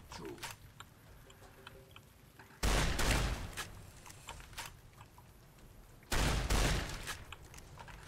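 Fallout New Vegas gunfire: two loud, heavy bursts of shooting a few seconds apart stand out over quieter clicks and in-game noises, with occasional softer shots in between.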